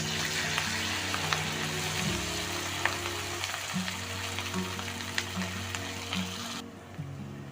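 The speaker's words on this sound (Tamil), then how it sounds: "இப்போ ஃப்ரை பண்ணி எடுத்துக்கிறோம்" Idli pieces deep-frying in hot oil for restaurant-style chilli idli, with a close, steady crackling sizzle and scattered pops, plus a low tonal hum beneath.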